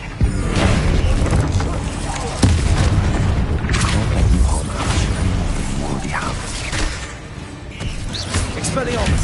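A booming magical blast from the Bombarda spell in Hogwarts Legacy hits loudly with rumbling explosive tails, set among continuous combat effects, whooshes and voices over a dense, busy mix.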